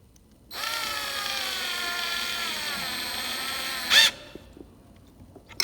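A power drill drives a screw while a Chamberlain B550 garage door opener is installed, a steady whirring run of a few seconds that ends with a brief louder burst before stopping.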